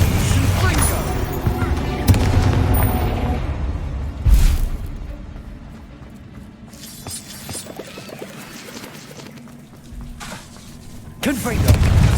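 Repeated Confringo fire-spell blasts in Hogwarts Legacy, with booming impacts under in-game spell shouts, one loud burst standing out midway and another near the end, with quieter rumbling between.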